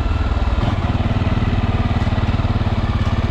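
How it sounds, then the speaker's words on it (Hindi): A loud, steady idle from a liquid-cooled Jawa 42 Bobber motorcycle engine with a fast pulsing throb and the radiator fan's whirring hum layered on top, close by and continuous. "इसका रेडिएटर जो है वो अभी ऑन हो गया है"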